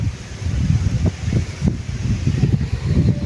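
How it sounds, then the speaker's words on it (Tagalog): Gusty wind buffets the microphone outdoors with a low, uneven rumble that rises and falls in waves. "Mahangin na."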